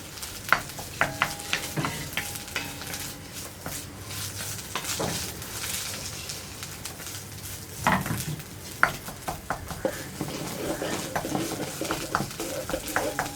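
Coconut curry paste cooking in a pan on a home stove, with scattered spoon stirs and clinks against the pan over a low, steady sizzle, fairly close, with no talk.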